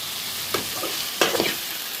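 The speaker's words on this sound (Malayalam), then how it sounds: "കുറച്ച് മുളക് പൊടി, കുറച്ച് ഗരം മസാല മിക്സ് ചെയ്ത് കൊടുക്കുക." Spices are stirred into wild bitter gourd frying in a pan: a loud, continuous sizzle broken by two scraping strokes of a spoon, one near the middle and a stronger one soon after; no talking.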